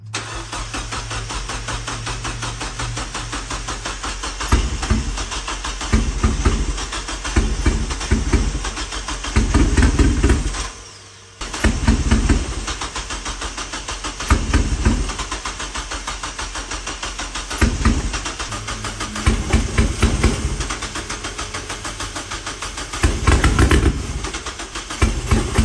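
A boosted Mazda Miata with a possible ignition fault and an unprimed fuel pump cranks over and over without starting, each burst a rhythmic chugging of the starter lasting a couple of seconds, with short gaps between attempts.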